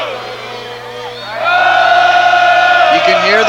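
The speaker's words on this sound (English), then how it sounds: "You can hear the Crofton crowd from behind us. They're jacked." A home crowd at a 1994 Crofton girls basketball state championship game rises into loud, sustained cheering and yelling, building from a murmur to a roaring wall of voices.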